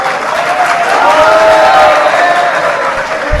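A large audience claps steadily through a sermon hall, a dense, even patter of applause with crowd murmur underneath, sustained at a constant level from start to finish.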